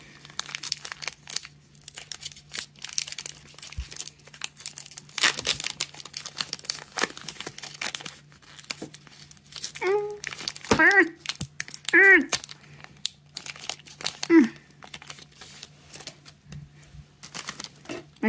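A Pokémon Shining Fates booster pack being torn open: close crinkling and tearing of foil wrapper in bursts, with a faint steady hum underneath and a few short vocal sounds mixed in.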